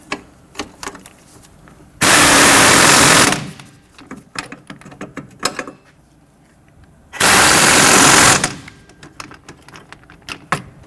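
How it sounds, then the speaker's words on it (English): Rear strut nuts and bolts on a 1992-1996 Toyota Camry tightened with a powered tool: two loud, sustained buzzing bursts of about a second each, separated by quieter clicks and handling noises nearby. "Just tighten down our strut nuts and bolts."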